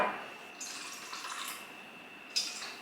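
Ice cold water trickles and splashes into a bowl for bagel dough, a faint pour with soft bursts of liquid in a quiet kitchen.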